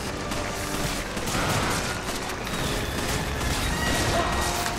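Dense, sustained gunfire and explosive chaos from co-op play of the video game Resident Evil 5, a loud unbroken barrage with mechanical clatter filling the whole stretch.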